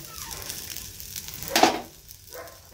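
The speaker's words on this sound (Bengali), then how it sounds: "এই ডালটা একটু গরম করে নেব।" Dal warming in a pan on the stove gives a quiet sizzle, with a brief louder burst of frying crackle midway before it settles back to a low hiss.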